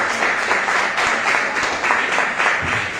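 Sustained, dense applause from a church congregation, loud and even for a few seconds, with no voices rising above it.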